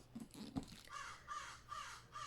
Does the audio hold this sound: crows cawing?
yes